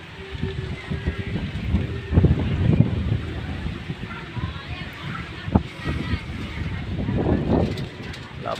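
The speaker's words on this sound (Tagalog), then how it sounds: "Lakas ng hangin" Strong wind buffets an outdoor microphone in Pitogo, Quezon, a steady rushing roar with louder gusts, while people talk over it.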